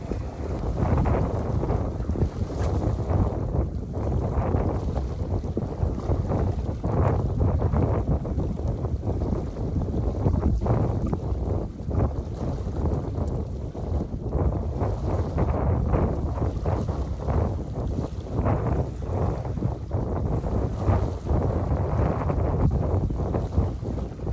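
Strong wind buffets the microphone in a constant roaring rush while fishing, with gusty rumbling throughout and no talking.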